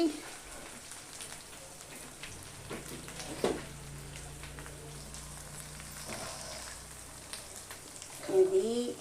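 Fish pittu frying in a pan, a soft steady sizzle and crackle at low volume, with faint background voices and a few small clatters near the end.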